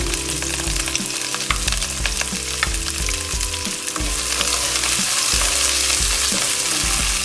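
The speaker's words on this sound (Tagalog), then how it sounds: "sarap yan kasi gilisan yung olive oil" Garlic and onion sauté in olive oil, a loud, constant close sizzle with stirring and clinking underneath throughout, and no voices.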